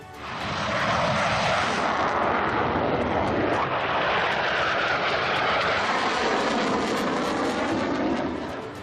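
A Rafale fighter jet roars loudly and steadily, a broad sustained engine rush that swells in within the first second and holds without a break.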